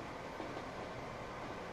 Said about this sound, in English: We see the Spanish train on the outside there, trying to gain a bit more ground.